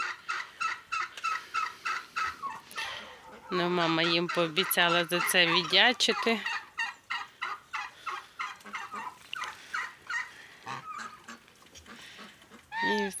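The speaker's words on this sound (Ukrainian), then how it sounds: "Індики біля них кричать." Turkeys gobble loudly in a burst of rapid warbling calls, nearby, while someone talks quietly before and after.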